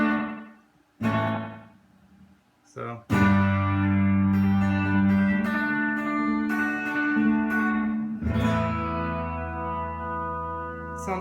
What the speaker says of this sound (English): It's a really fast kind of reverb or a really fast kind of slapback effect.